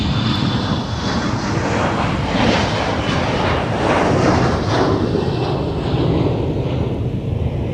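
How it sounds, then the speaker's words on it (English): A United Express Embraer 175 jet airliner at MSP airport sends up a steady, loud broadband engine roar that holds without a break the whole time. "So this is United Express. It's Embraer 175."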